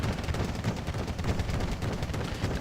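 Cluster bombs and gunfire in the video game Wargame Airland Battle, a continuous dense rumble of overlapping blasts and rapid shots that holds steady at moderate loudness throughout.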